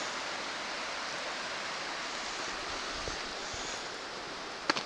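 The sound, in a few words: flowing water of the River Cree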